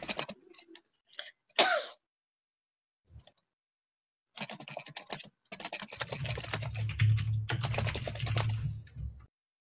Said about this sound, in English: Everyone's typing.